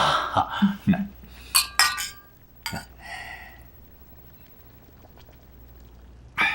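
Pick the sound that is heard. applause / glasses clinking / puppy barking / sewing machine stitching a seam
glasses clinking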